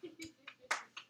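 A few scattered, sparse claps from students in a lecture hall, about five separate quiet hand claps spread over a second, thin and unenthusiastic.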